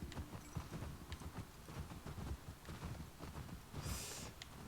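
Horse hooves clip-clop steadily at a walking pace in The Last of Us Part 2 video game, a continuous rhythmic stream of soft thuds over a muffled background, without talk.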